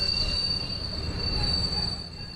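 El Chepe passenger train approaching the mountain station at Bajo Chivo, with a steady high metallic wheel squeal over a low rumbling rolling noise, loud and continuous throughout.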